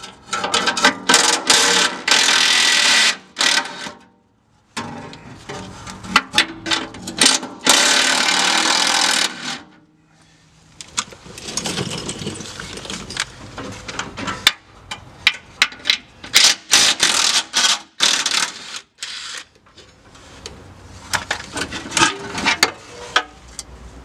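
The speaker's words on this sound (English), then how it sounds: "we got this heat shield for the spare tire right here. I'm going to take it down, give me a little room to work. It's got three fasteners" Hand tools work on the fasteners of a spare tire heat shield under a vehicle, making loud, close bursts of metallic ratcheting, scraping and clanking with short pauses between them, and no speech.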